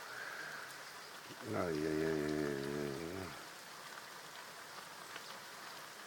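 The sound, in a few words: rain and hail falling during a passing storm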